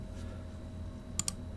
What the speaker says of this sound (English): let's click on those and hit delete on the keyboard